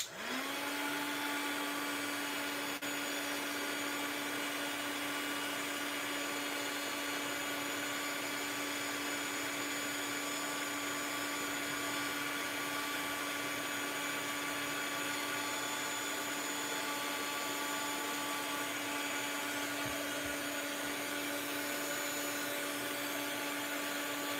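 A heat tool runs steadily for the whole stretch, drying mixed media paint on a tag craft piece, its motor and fan giving a continuous close, loud whir and hiss with no talk over it.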